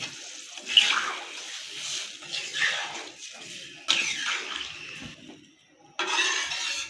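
Water is poured in several bursts into a pan of fish curry with cauliflower, beans and potatoes, splashing and gushing up close, with short pauses between pours.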